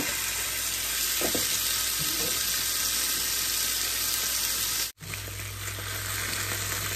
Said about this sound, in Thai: ต่อไปนี่ก็จะผัดเห็ดน้ำมันหอย